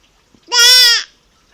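A voice imitates a sheep's bleat, a single loud, wavering baa lasting about half a second, heard close and alone.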